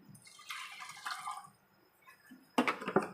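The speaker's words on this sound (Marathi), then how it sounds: "पाणी घालून घेणार आहोत" Water poured onto washed lentils with onions and tomatoes makes two short splashing, trickling bursts separated by a quiet gap, close and moderately loud.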